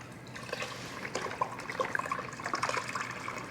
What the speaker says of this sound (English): let's add some, we're gonna use some vegetable stock